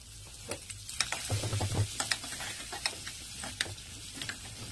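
Cumin and ginger-garlic paste fry in hot oil, a soft crackling sizzle with scattered pops and stirring clicks, close but fairly quiet.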